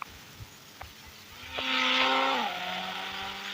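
A car in a video game speeds along at high speed, its engine rising to a loud, steady roar with a shifting pitch, faint background noise beneath.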